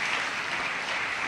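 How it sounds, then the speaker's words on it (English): Audience applause at a university inaugural lecture, a steady, dense wash of many hands clapping continuously at moderate level, with no pauses and no voices on top. "let's applaud them if they are here"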